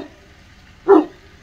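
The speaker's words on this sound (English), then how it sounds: "Bruno's barking" A dog barks once, a short, fairly loud yelp standing out over quiet background, with no talk during the sound.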